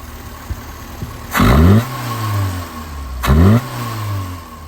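A small car engine, a 1979 Fiat 124 Sport Spider 2000, idles with a steady hum, then revs sharply twice, each rev rising in pitch and dropping back to idle.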